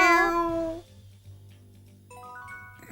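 Cat meowing in the video game Tales of Xillia 2: one clear, loud, close meow, then a low, quieter sustained tone with a few soft chimes near the end.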